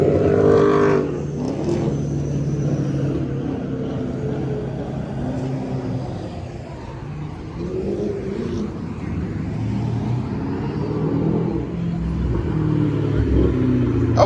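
A BMW car engine revs at a car meet, a loud, rough rumble with rising and falling revs up close, mixed with crowd noise and voices talking.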